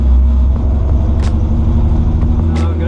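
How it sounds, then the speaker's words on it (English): A BMW E46 drift car engine with a misfire, idling close by as a loud, steady low rumble with a few brief sharper bursts on top. "the Beamer has developed a little bit of a misfire"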